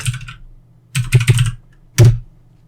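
Bursts of computer keyboard typing, a short flurry at the start, a denser run of keystrokes around the middle and one louder final burst, close and alone with no speech.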